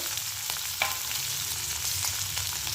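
Potatoes with crushed green chili and cumin frying in a pan for sabudana khichdi, a steady close sizzle with a few brief stirring clinks, no talking.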